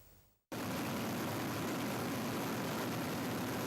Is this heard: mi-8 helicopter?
yes